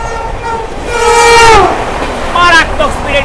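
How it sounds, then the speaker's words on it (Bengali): The Puri–Howrah Vande Bharat Express passes at high speed, close and loud, with a sounding horn rising and falling over rushing wheel noise and a rumbling car passage. "পুরী থেকে ছেড়ে আসা হাওড়া বন্দে ভারত এক্সপ্রেস।"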